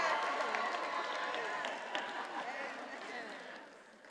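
Audience at a Black graduation ceremony applauding in a sustained wash of clapping and crowd noise, heard from some distance and fading toward the end, with voices mixed in.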